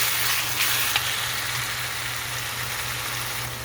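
Onions frying in a pan for a Punjabi-style chickpea curry make a constant, close, rain-like sizzle with small crackles, steady in level throughout and with no one talking.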